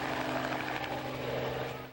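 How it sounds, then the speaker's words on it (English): A Robinson R-44 single piston engine helicopter flies steadily, giving a continuous dense rotor and engine drone with a low throb, loud and unbroken throughout. "it would be the first such flight in a single piston engine helicopter"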